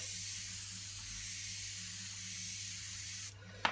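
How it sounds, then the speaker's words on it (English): Airbrush spraying Daler-Rowney inks onto paper gives a steady, soft hiss that runs continuously for a few seconds close by, then cuts off abruptly and ends with a small click. "So you see here, I do have a lot of overspray."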